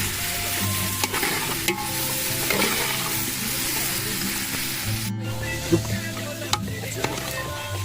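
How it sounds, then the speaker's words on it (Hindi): Onions sizzle steadily in a hot pan while being fried for chicken, with a constant crackling hiss and occasional clinks and scrapes of stirring, close up and without talk. "तो चिकन के लिए अब तो प्याज फ्राई करना हूँ मैं"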